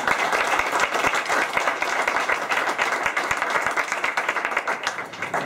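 An audience applauds at a quantum computing lecture to see off a speaker who came from Barcelona, with dense, steady clapping sustained throughout and faint voices beneath.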